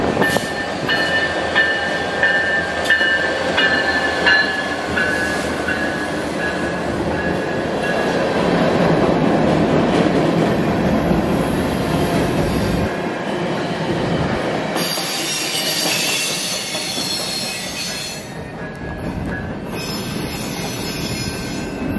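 A CN local manifest freight train rolls past at Battle Creek, Michigan, a long, loud continuous rumble with persistent high wheel squeal and clicking rail joints, the squeal shifting and flaring toward the end.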